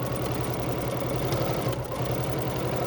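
A BERNINA sewing machine with a binder attachment stitches straight down a seam, its motor humming in a fast, even mechanical rhythm that runs continuously throughout, close and without talking.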